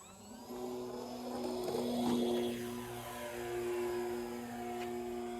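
Dynam PT-17 RC model biplane flying past and coming in to land, its electric motor whirring with a steady tone that swells and eases, moderately loud and without any talk.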